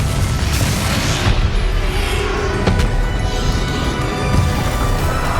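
Confringo fire spell exploding in Hogwarts Legacy combat, a loud sustained booming blast with crackling bursts filling the whole stretch, dense and close with no pause.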